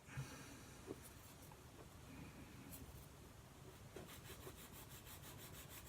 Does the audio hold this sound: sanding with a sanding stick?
yes